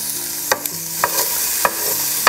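Kimchi fried rice frying in a pan on a portable burner, sticking to the surface, with a steady sizzle broken by a few sharp scrapes and clacks of a utensil stirring, close and alone.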